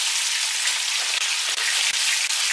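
Beef pieces browning in a pot for a veal and artichoke stew, giving a steady, dense sizzle and crackle close by with a few small stirring clicks and no voices.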